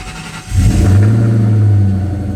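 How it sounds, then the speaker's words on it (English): A car engine cold-starts: after a brief quiet moment it catches abruptly, then settles into a loud, deep, steady idle rumble close by. "Let me give you guys a little cold start."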